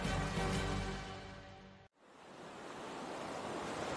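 Open-ocean waves wash and hiss steadily in thick fog, a broad rushing surf that drops out for a moment and then returns as a softer, airy wash.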